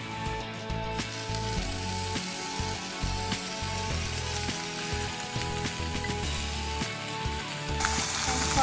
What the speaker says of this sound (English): Now we add chopped garlic for a little bit fry.